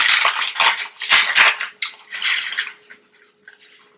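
Oats and banana being mixed in a bowl, a series of close, irregular wet squelching and scraping strokes that fade to near silence at the end.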